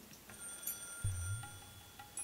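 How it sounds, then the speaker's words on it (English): A telephone rings in the video game Higurashi When They Cry Hou. The ringing is faint and steady, with a soft low thump partway through and no talking. "As soon as I put the phone down, it rang again."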